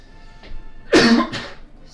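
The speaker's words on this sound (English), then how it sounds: "Stupid cough." A single sharp cough, close and loud, with a brief throat-clearing rasp after it, heard alone during a session of the board game Fortune Street.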